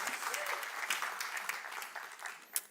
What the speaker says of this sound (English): A round of applause for Carla Rodrigues from Canada.